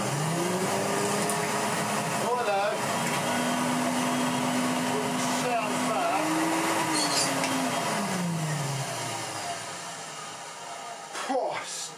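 A vacuum cleaner drones steadily close by, its motor pitch rising and dipping, before winding down near the end.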